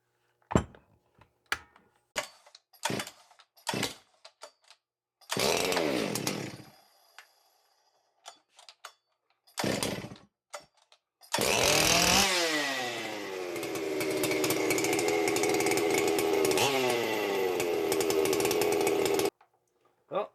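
A Stihl 064 85cc chainsaw takes several sharp starter-cord pulls and short sputtering bursts, then fires up and revs loudly before settling into a steady, slightly high idle up close.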